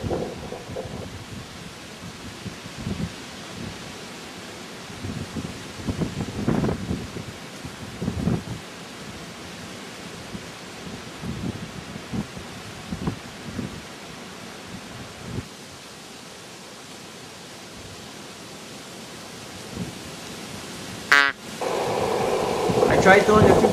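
Strong wind gusts roar steadily through woods around a deer hunting stand in New York, a broad continuous rush that swells and fades in waves, with a brief sharp knock near the end.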